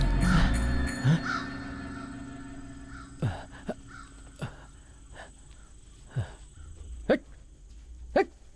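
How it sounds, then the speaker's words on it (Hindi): A crow caws repeatedly in short, sharp calls spaced a second or so apart, moderately near against a quiet background, after some louder noise at the start. "कौवा काव काव कर रहा था"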